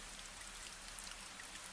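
Steady rain falls over an old garden on a quiet evening, a soft continuous patter of drops with no voices, holding even throughout and swelling briefly at the very end.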